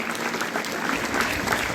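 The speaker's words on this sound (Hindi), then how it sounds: "जोरदार तालियां रिंकू मैडम के लिए।" Loud, steady applause from a school audience honouring teacher Rinku at a Teachers' Day celebration, dense clapping sustained throughout without pause.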